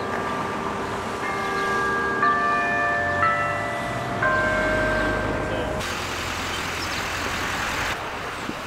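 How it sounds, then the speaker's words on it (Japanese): Church bells ring out over a city street in spring, several pitched strokes overlapping and sustaining at moderate distance above a steady wash of passing traffic. "教会の鐘。"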